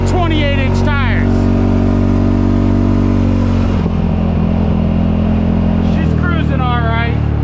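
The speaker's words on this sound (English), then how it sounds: "what more do you want from a CFMOTO ZForce 500 running 28-inch tires?" A CFMOTO ZForce 500 UTV on 28-inch tires runs with a loud, steady engine drone close by, its pitch dipping midway, while a voice talks over it at the start and end.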